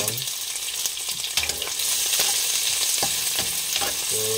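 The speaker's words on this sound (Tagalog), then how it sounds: "So, gigisa na tayo ng sibuyas, bawang." Onion and garlic sautéing in a pan for pork curry, a steady loud sizzle of frying with stirring scrapes and clicks of a utensil throughout, close up and with no talking.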